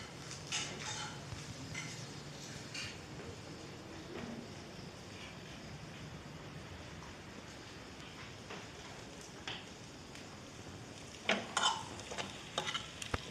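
Home cooking with stirring and frying: a faint, steady sizzle under scattered scraping and clinking of a utensil against a pan, with a louder cluster of clatters near the end.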